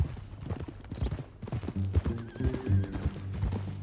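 A horse in Red Dead Redemption 2 clops its hooves at an easy, steady walk and lets out a whinny, the sounds coming close and clear with no talk over them.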